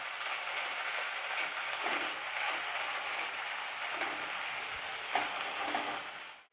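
Whole red chilies sizzle in hot oil as a tempering for restaurant-style dal khichdi. A continuous, fairly soft crackling hiss is broken by a few faint clinks and stirring scrapes.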